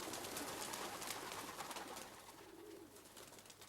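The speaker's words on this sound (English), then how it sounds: "pigeon fancier Jim Nicholson arrives at his loft to let his pigeons out for their exercise" Racing pigeons coo softly inside their loft in the early morning, a faint low murmur amid a broad rustling background with no speech.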